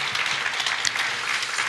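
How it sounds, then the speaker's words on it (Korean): Church congregation applauding during a Sunday worship service, a steady wash of many hands clapping at close range with no talk over it. "하나님께 다시 한번 큰 영광의 박수 올려드립니다."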